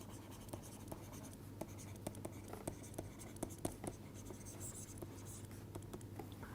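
Chalk or pen writing on a board during a physics lecture on the canonical ensemble: faint, steady scratching with irregular small taps and strokes over a low background hum, quiet and close, with soft voice traces.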